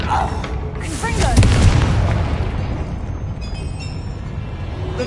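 A Confringo fire spell explodes in Hogwarts Legacy, a loud booming blast with a long rumbling tail and scattered crackles, close and dense, with a voice briefly heard over it.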